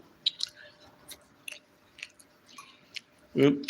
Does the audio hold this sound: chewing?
yes